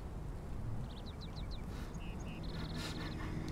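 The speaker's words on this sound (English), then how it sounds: "Fucking bird." A cartoonish bird quacks in quick repeated bursts from the video game Night in the Woods, followed by short chirps and a brief trill, faint against steady background hiss.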